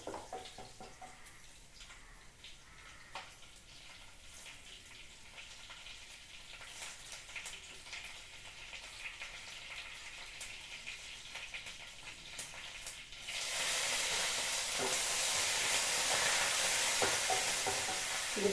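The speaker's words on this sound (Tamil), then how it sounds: "நல்லா வடகம் போட்டு தாளிச்சிக்கலாம். எண்ணெய் காஞ்சிச்சு," Vadagam sputters and sizzles in hot oil as a tempering for pulicha keerai kadaiyal, a soft crackle that swells into a louder, dense hiss partway through with no talking.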